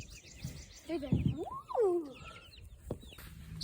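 Chickens on a farm cluck and squawk nearby in a few short, rising calls, with soft background chirps and no talk.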